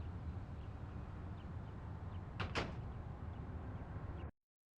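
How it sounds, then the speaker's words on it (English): A door closes in the video game Deadly Premonition: two quick, sharp knocks close together, set against a steady hiss of background noise that cuts off abruptly near the end. "I heard the door close, you better be out here."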